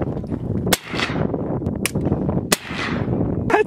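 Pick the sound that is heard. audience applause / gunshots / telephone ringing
gunshots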